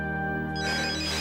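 A telephone rings in a steady electronic tone, loud and close, with a brighter chime that enters partway through the short burst.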